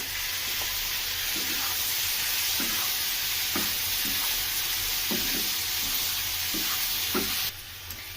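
Pasta is stirred in a frying pan with salt, steady loud sizzling throughout with regular scraping strokes of the spoon against the pan roughly every half second.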